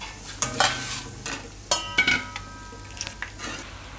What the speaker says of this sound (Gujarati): તો સિંગદાણા આપણે આ રીતે તળી લીધા